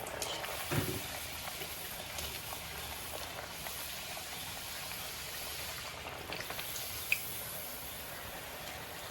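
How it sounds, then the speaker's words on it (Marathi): Vadas frying in hot oil, a steady soft crackling hiss with small pops, one sharp snap near the end, no talking. "आता हे वडे मी तेलात सोडते"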